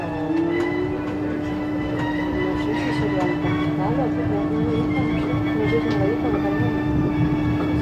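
A Renfe commuter (Cercanías) train in Barcelona near Sants station rolls past with a steady rumble, a sustained tonal hum and scattered wheel squeals, with voices faintly mixed in throughout.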